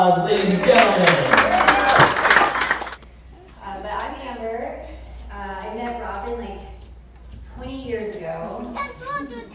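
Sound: round of applause for the maid of honor

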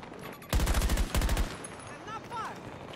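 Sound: AM40 gunfire in video game Battlefield 2042

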